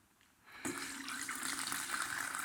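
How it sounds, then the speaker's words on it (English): Brine pours off fermented fire cider produce, starting with a faint hush before a sudden steady splashing flow of liquid begins and keeps running close by. "So we're just gonna pour it out."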